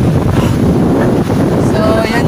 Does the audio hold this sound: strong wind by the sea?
yes